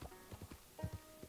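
Horse hooves clip-clopping in Red Dead Redemption 2, a quick run of distinct thuds in uneven paired beats, moderately close and clear, with no talking.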